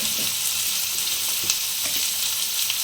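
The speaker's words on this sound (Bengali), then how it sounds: "আমি এটা কষে নেব মশলাটা" Ground spices, including Kashmiri chilli and roasted cumin powder, sizzle steadily in a pan for an aloo fulkopi masala, a dense continuous frying hiss with soft stirring scrapes and no talk.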